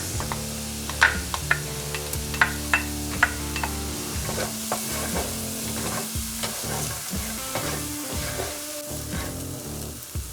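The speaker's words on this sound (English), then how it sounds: "the peppers have been sauteing for a minute or so" Peppers sauté in a hot pan for tacos gobernador, a steady loud sizzle running throughout while a utensil stirs and taps the pan in irregular knocks, close up and with no voices.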